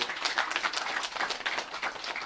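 Live comedy-show audience applauding, a dense steady wash of many hands clapping at moderate distance for a couple of seconds, with no clear speech over it.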